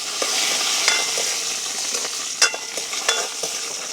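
Dried red chilli pieces are fried in a pan with a close, lively sizzle, punctuated by scattered clicks and scraping stir sounds. No voices are heard.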